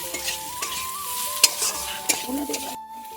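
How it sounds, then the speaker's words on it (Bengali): Turmeric, chilli powder and salt sizzle in hot oil in a wok as a spoon scrapes and stirs, with a frying hiss, a few clinks against the pan and a faint steady tone in the background. "হলুদ গুঁড়ো কড়ার মধ্যে একটু দিয়ে দেবো, আর একটু লঙ্কা গুঁড়ো দিয়ে দেবো, নুন দিয়ে দেবো অল্প করে। দিয়ে এটা কষতে থাকবো।"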